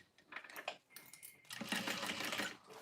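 A sewing machine topstitches in short, quiet bursts that settle into a brief steady run.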